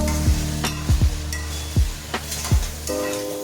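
Chilli paneer sauce frying in a pan, a steady sizzle broken by several distinct scraping stirs of a spoon against the pan, close and fairly loud with no talking.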